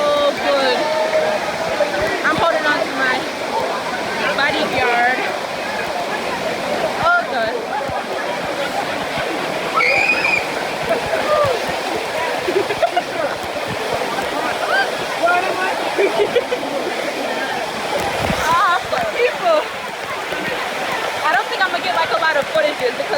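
Dunn's River Falls in Jamaica roars as a steady, close, full-bodied rush of cascading water throughout, with people talking and calling out over the constant spray.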